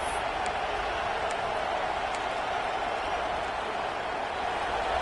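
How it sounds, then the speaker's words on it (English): A large stadium crowd roars at a #5 Texas at #1 Arkansas college football game, a steady, even wash of cheering noise that stays level throughout, with no clear voice rising above it. "Listen to the crowd energy here in the early going."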